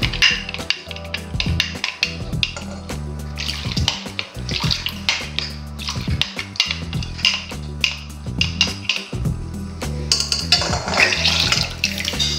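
Milk mixed with cornflour is stirred in a pot, with rapid, irregular clinks and scrapes of the utensil against the metal and a liquid slosh that grows busier toward the end.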